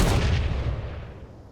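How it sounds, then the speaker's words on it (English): A single heavy shot from an assault cannon in the Space Engineers game booms loud and close, its broad blast decaying over a second and a half with no voices. "Assault cannon. 1 shot."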